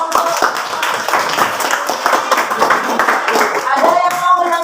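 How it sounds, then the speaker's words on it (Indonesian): A classroom of students claps their hands for a group, brisk uneven clapping from a modest number of people close by, with voices mixed in. "Oke, tepuk tangan dulu buat kelompok."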